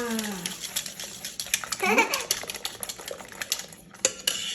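Eggs beaten with salt and sugar in a bowl for Swedish-style pannkaka pancakes, giving rapid clinking whisk or fork strokes against the dish, loud and close, with a brief bright scrape partway through.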